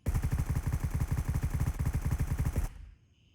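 A suppressed AK-12 rifle in the shooter game Gray Zone fires one long, rapid, evenly spaced automatic burst of dull, punchy shots for under three seconds, then cuts off into near silence.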